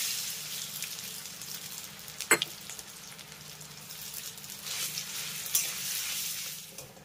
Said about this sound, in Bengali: আর তারপর আমি এই তেলের ভিতরে দিয়ে দেবো বড় সাইজের দুটো সেদ্ধ করে নেওয়া আলু।